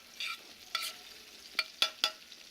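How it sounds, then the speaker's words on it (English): Bacon frying on a Bella Forno grill, a faint background sizzle broken by several sharp scraping and stirring clicks of a utensil, with no talking. "So now that the bacon is going"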